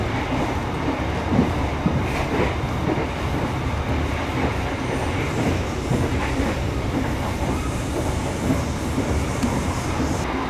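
Inside a Mataram business-class passenger train running on rails, a steady rumbling roar with faint rhythmic wheel clatter continues throughout, no voices over it.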